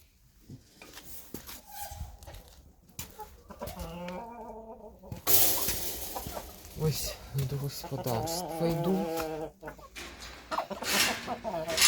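Hens cluck and chatter close by while someone speaks briefly over them, the clucking continuing in busy bursts throughout.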